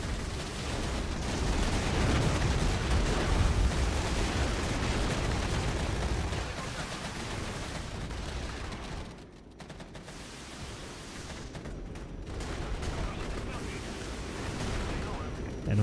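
Heavy gunfire and explosive blasts roll through an attack on an anti-air unit in a realistic real-time strategy game, a loud, dense barrage that thins briefly near the middle before swelling again.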